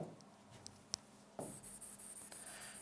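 Chalk or marker scratching on a board during a Hindi lesson on motivation theory, starting with a few faint taps and then a steady run of close, rhythmic writing strokes in a quiet room.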